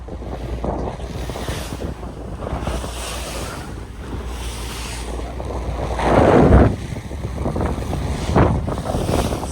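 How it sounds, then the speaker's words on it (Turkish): Waves slapping against a boat at sea off the Turkish coast near Bozcaada, with constant wind buffeting the microphone and rushing water, one heavier splash surging louder midway. "Daha şimdiden, daha şimdiden dalgalar başladı."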